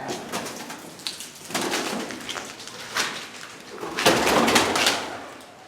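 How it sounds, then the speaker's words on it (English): Pigeons cooing inside an abandoned church, soft repeated coos with light rustling and echoing thumps, steady and moderately close with no talking. "Where are our pigeon friends?"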